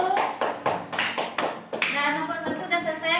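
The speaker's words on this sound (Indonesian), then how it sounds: "Tepuk tangan untuk kelompok 1." A classroom group claps for group 1, a roughly even series of sharp, close claps that breaks into looser scattered clapping with voices talking over it.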